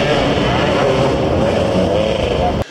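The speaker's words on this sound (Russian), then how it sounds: "взревели моторы мотоциклов" Motorcycle engines roaring together at the start of a motoball match: a loud, steady, close drone with a sustained pitch that cuts off abruptly near the end.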